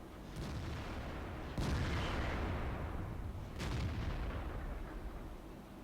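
A 112 Chinese tier 8 premium heavy tank takes shell hits to its side in World of Tanks: two sharp booming impacts a couple of seconds apart over a steady low engine rumble.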